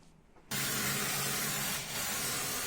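Lacquer sprayed inside a wooden planter box for a thuja, a steady close hiss that starts abruptly and holds with one brief dip near the end.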